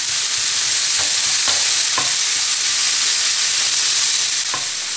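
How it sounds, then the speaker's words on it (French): Minced meat browns in a frying pan, giving a loud, steady sizzle with a few faint scrapes of stirring scattered through it and no talk. "je laisse ma viande colorer jusqu'à ce qu'elle obtienne une jolie coloration pendant 5 minutes"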